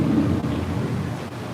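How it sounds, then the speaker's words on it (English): Artificial rain falls inside an EPCOT attraction, a steady dense hiss of water with a low rumble underneath, continuous and fairly loud, with no voices. "turns out it's raining inside here too"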